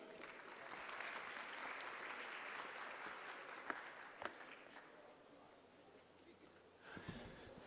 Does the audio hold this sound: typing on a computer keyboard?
no